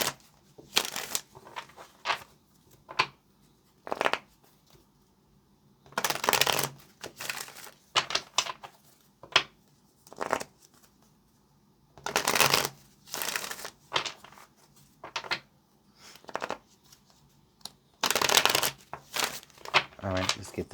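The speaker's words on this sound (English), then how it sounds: "let's get this last shuffle here for you, Gemini" A deck of tarot cards is shuffled by hand on a table in a series of short, crisp riffling bursts separated by pauses, near and moderately loud.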